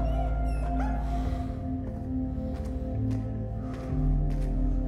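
Spike, a dog in the game Somerville, gives yips and whimpering whines over a steady low ambient drone, fairly close and continuous throughout.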